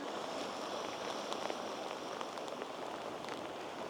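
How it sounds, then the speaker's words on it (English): Heavy rain pours down on the Connecticut coast, a dense and steady hiss of drops that never lets up, with a few slightly sharper patters. "there's so many raindrops right now"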